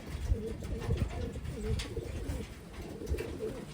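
Several Taiwan Wantai pigeons coo nearby in low, repeated throaty bursts that overlap in a steady rhythm, with no talking over them.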